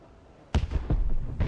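A sudden loud blast goes off in the video game Arc Raiders, followed by a second of rumbling, crackling debris bursts and a final sharp crack near the end.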